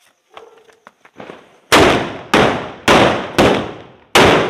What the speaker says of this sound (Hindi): साथ ही आग लगाने वाले हैं उस हंडी बम में